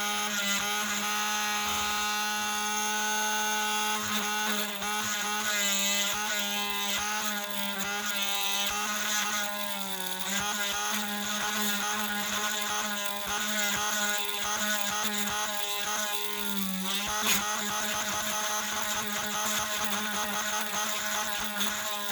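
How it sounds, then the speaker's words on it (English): A small rotary tool drilling into the die-cast metal body of a Hot Wheels Buick GSX, a steady close high-pitched whine that dips and rises in pitch as it bites, running throughout with no talking. "do some drilling in to the body where rust would go."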